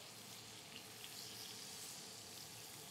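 Mashed garlic cloves hitting a hot cast iron pan, a dense, even sizzle that holds steady for a few seconds with no talking.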